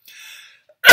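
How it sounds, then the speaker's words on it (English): A single sharp, loud sneeze bursts out at the end, preceded by a faint breathy intake. "I'm about to sneeze."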